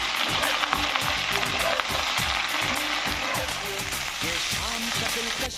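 Mixed vegetables with potatoes fry in a pan for a vegetarian Bengali dish, a steady dense sizzle with repeated scraping stir strokes throughout, close and loud, with faint background music or voice traces underneath.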